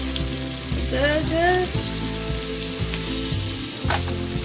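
Onions for stuffed eggplant fry in a pan with a constant close sizzle and an occasional scrape, heard under steady background music at a fairly loud level.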